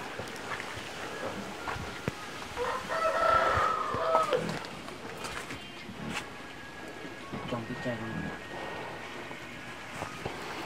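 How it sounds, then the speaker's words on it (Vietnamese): A chicken clucks and gives crowing calls on a rural farm, with one louder burst of calls in the middle and others scattered throughout at moderate distance, while people speak nearby. "Cái gà này chắc là cháu Lực là lấy thả luôn cô bác này"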